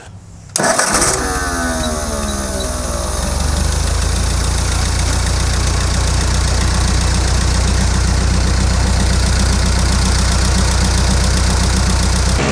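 A 1952 Ford 8N tractor engine cranks, catches and settles into a loud, steady, rapid chug close by, running continuously without pause.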